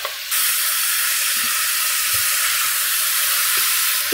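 Onion and bacon strips fry in clarified butter, a loud, even sizzle that starts abruptly and holds steady, broken only by faint clinks of stirring, close up with no voices.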